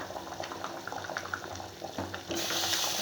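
Dosa batter spread on a hot, oiled griddle gives a steady watery hiss. The hiss swells abruptly into a louder, brighter sizzle toward the end, with no one speaking.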